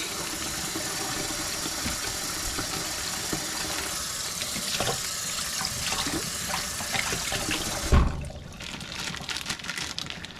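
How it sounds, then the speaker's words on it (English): Cold tap water runs steadily over bags of cured salmon eggs at a sink, a continuous splashing wash that cuts off abruptly near the end. "Nice cold water. Rinse our bags off so we don't get that cure all over the fridge."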